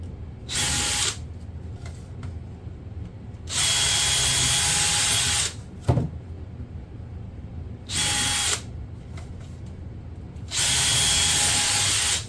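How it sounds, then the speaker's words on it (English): A DeWalt power drill with an eighth-inch bit whines in four separate bursts while pre-drilling holes in a stool, each a few seconds long, with quiet pauses and a sharp knock between them. "I did my pre-drilling with the eighth of an inch on the DeWalt drill there"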